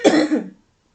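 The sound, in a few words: cough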